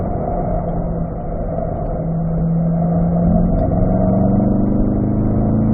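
A car engine holding fourth gear on a hot lap, a loud, sustained in-cabin drone whose pitch rises gradually as the car pulls along, with no talk.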